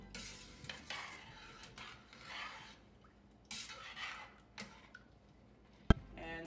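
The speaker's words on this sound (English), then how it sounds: "Now we're gonna just stir it up to make sure the peas is not sticking at the bottom." Spoon stirring peas in a cooking pot with salt added, faint scraping and swishing strokes in irregular bursts, with a single sharp clink of utensil against pot near the end; no voices.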